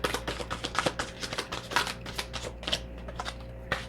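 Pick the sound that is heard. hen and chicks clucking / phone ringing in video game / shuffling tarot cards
shuffling tarot cards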